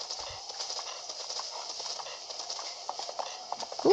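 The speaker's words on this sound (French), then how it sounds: "on a des beaux chevaux, dis donc." Horse hooves in Zelda Breath of the Wild video game clip-clopping at a steady trot, a close and continuous rhythmic clatter over a faint outdoor game ambience.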